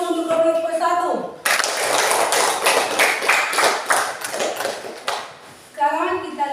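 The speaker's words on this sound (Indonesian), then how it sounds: "beri tepuk tangan dulu untuk kelompok 1" A classroom of students claps for a group, a dense burst of many hands lasting several seconds, with speech just before and after.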